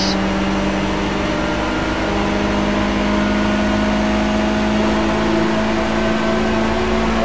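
Loud racing car engine in the Project CARS game during an onboard California 3-Point Trophy race, a steady dense drone with sustained tonal hum and no pauses throughout.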